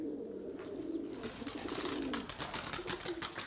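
Pigeons coo in a low, continuous drone nearby. Halfway through, a run of sharp, rustling bursts rises over it, like wings flapping and birds shuffling.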